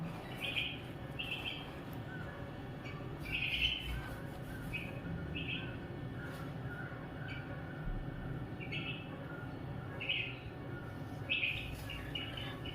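Small bird chirping inside a house where a chick has hatched, short high tweets repeating every second or two at moderate distance over a low steady background hum.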